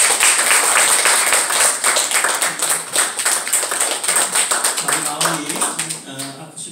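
A church congregation claps in a brisk, dense patter that carries steadily through the room, thinning out near the end as a voice begins to talk.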